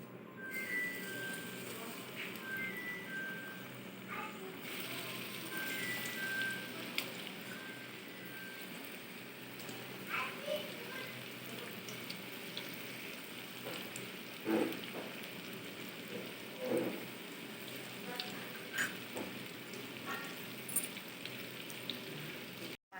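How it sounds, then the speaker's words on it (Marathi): Masala-coated taus fish frying in a pan in a Konkani home kitchen, a steady soft sizzle and crackle throughout with occasional louder pops, faint and close. "आता आपण फ्राय करूया"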